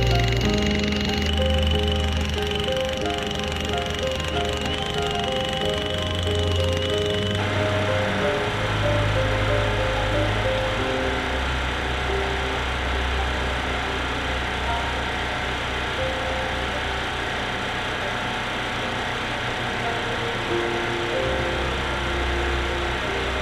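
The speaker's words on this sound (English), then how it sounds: "I'm going to go get the jackhammer." A jackhammer hammers steadily at ground along a road, a loud continuous mechanical pounding close by with an engine droning underneath throughout.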